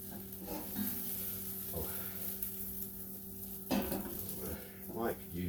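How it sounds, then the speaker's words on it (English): An omelet sizzles steadily in a hot pan as it is flipped, with a few soft clanks and scrapes of the pan and utensil rising above the constant frying hiss. "I'm going to try to flip it."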